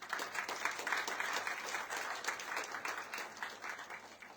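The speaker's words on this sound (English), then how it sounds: "give all of our awardees a round of applause" An audience applauds awardees at a ceremony, a steady, even patter of many hands clapping at moderate distance for several seconds, with no talk over it.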